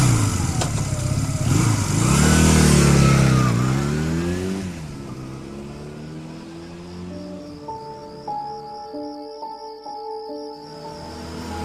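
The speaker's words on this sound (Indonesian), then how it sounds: "Buru-buru aku menyalakan motorku dan langsung tancap gas pulang ke rumah." A motorcycle engine revs loudly up close and rises in pitch as it pulls away, fading out while sustained musical tones take over.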